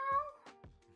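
A house cat in an office meows clearly and close by, a tonal harmonic cry held for a moment, followed by a couple of short breathy sounds and a brief softer chirp with no talking.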